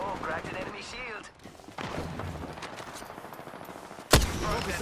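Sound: gunfire in video game Apex Legends

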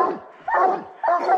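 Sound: bear hunting hounds barking

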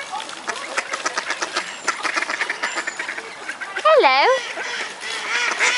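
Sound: ducks quacking approaching

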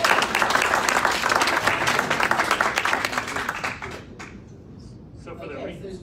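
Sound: audience applause

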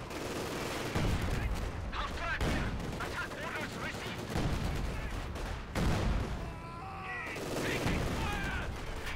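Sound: artillery barrage in video game Company of Heroes 2

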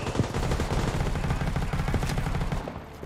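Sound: MG5 machine gun firing in the video game World War 3

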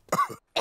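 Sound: cough

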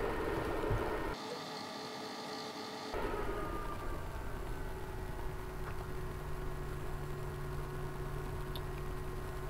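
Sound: EcoFlow Delta 2 Max power station fans at half charge speed

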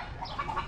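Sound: escaped chicken flapping its wings

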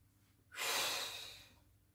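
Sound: inhaling breath during exercise

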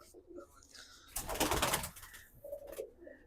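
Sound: pigeons cooing

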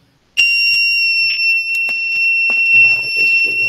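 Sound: continuous beep from an Arduino-connected buzzer

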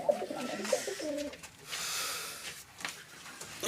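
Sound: pigeons cooing

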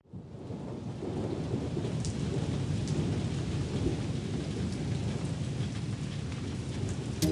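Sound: rain and thunder

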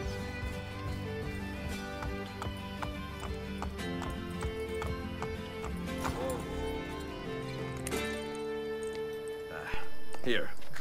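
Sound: galloping horses in video game Assassin's Creed Brotherhood

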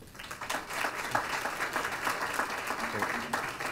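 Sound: audience applause welcoming a speaker

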